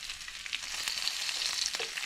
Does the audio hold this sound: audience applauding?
no